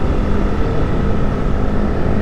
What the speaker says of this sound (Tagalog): So may motor sa likod natin.